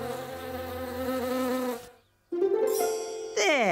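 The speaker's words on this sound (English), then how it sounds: "the wasps will have them" Loud wasp buzzing in a steady, layered drone that cuts off briefly, then resumes with a wavering, rising whine.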